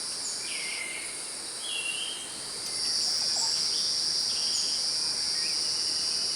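Male insects calling to attract females in Costa Rica: steady, dense high-pitched cricket trills that hold continuously, with occasional distant bird chirps layered over the constant buzzing chorus.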